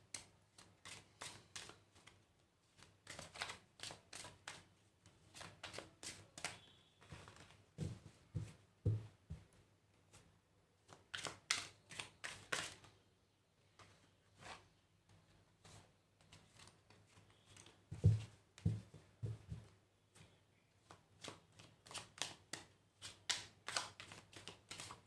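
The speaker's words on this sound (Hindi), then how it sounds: "पहले हम कार्ड्स को थोड़ा सा शफल कर लेते हैं।" Tarot cards being shuffled by hand, heard as faint, soft riffling and tapping bursts repeated in irregular clusters at close range in a quiet room.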